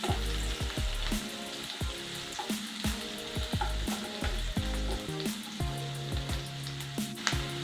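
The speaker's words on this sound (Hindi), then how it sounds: "उसमें ऐड करेंगे एक मीडियम साइज्ड अनियन जिसे हमने चॉप कर लिया है। इसे थोड़ा सा कुक कर लेते हैं" A medium chopped onion sizzles and fries in a pan for egg fried rice, with a continuous hiss broken by frequent metallic clinks and scrapes of a utensil against the pan, close up.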